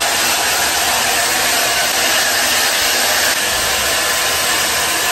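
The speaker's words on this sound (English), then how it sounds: "Then you take out the blow dryer to really make this thing have a difference." A blow dryer runs at a steady, loud whoosh while drying hair, a constant close airy roar that holds for several seconds before cutting off abruptly.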